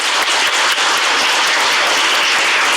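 A forum audience applauds: dense, loud, steady clapping throughout, with no voices.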